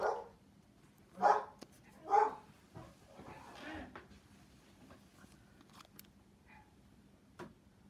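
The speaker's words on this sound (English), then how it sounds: "the dog is always barking" A dog barks in a few separate bursts, fairly close, with quieter yips and whimpers between them over low background hum.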